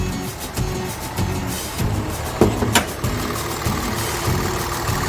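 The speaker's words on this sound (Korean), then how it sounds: "지금 엔진 소리나 엔진 진동 상태도 굉장히 양호하고" The engine of a Kia Mohave idles in its engine bay, a steady, loud, close rumble with a regular pulsing beat and a couple of brief sharp ticks partway through. No one speaks.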